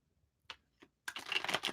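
Deck of tarot cards being riffle-shuffled: a couple of faint taps, then a dense burst of rapid card flutter close by, with no voices.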